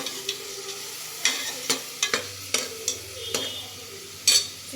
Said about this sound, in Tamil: இப்போ வந்து வதக்கிக்கிறோம், கிண்டிக்கிறோம்.